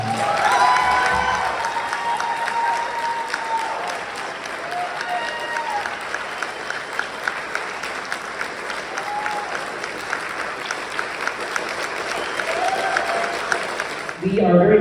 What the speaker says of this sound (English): Please give a round of applause to Blake Ferguson Allen.